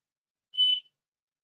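A single short, high electronic beep from an xTool F1 Ultra laser engraver sounds once in otherwise near silence, with the start of another cut off at the very end.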